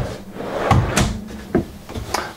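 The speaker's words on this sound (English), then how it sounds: "these are the soft close drawers as well" Several soft thuds and light clunks of soft-close drawers sliding shut in a 2019 Forest River Sandpiper fifth-wheel RV, spaced unevenly, close by with a quiet room behind.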